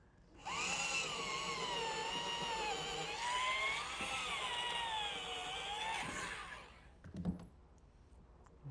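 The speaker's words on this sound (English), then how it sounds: "And now a pilot hole with a 1/4-inch" A power drill bores a 1/4-inch pilot hole through wood for a picnic table bolt, a loud whining motor that rises and dips for about six seconds, then stops, followed by a brief clatter.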